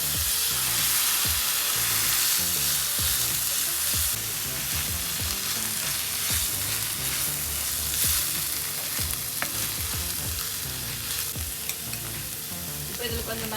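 Fish roe frying in a pan with sautéed onions, a loud continuous sizzle with scraping stirring strokes throughout, close and unbroken.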